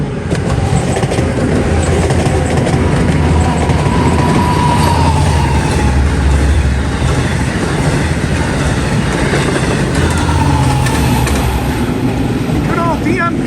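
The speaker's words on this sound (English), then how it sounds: "train 5 coming through here on 1." A Long Island Rail Road train led by a DM30AC locomotive, five cars long, passes through a station on the main line. Loud, steady rumble and wheel clatter run throughout, with faint screeching near the end.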